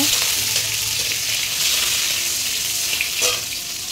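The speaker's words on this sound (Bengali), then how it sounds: "কোচানো পেঁয়াজ, একটু নেড়ে ছেড়ে নেব।" Chopped onion for a mutton curry fries and is stirred in a hot pan, giving a loud, steady sizzle with occasional scraping strokes from the spoon and no voices.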